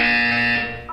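A harsh electronic buzzer from the video game Portal 2 blares loud and steady for about half a second, then tapers off into a short warbling tone, with no speech over it.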